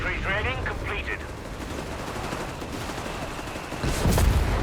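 Flak cannon and machine gun fire in a Company of Heroes 3 match, dense rattling bursts continuing throughout with a heavier blast near the end, under a commentator's talk.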